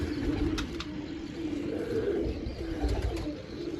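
Pigeons, including a Chinese hen pigeon, coo in a steady low murmur close by, with a few sharp bursts that could be wing flaps standing out above the calling.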